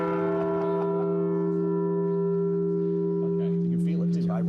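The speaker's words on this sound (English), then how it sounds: "I don't want to be rude and ask you to ring the bell for us." A large bell rung by pulling a rope rings out with a loud, sustained, humming tone that lingers and slowly decays, with a few people talking softly near the end.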